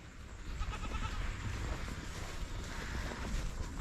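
Goats on a farm give a bleating call amid a steady, breezy outdoor rumble that runs throughout at moderate loudness.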